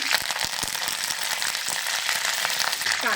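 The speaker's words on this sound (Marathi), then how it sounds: "मिरच्या पण एक मिनिटभर तेलात थोडस परतून घेऊया आता कढीपत्ता टाकूया" Green chilies and curry leaves sizzle and crackle in hot oil in a kadhai. A close, dense frying hiss carries scattered sharp pops, with no talking.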